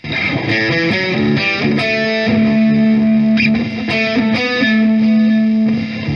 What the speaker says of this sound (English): the delay with the distortion is not super great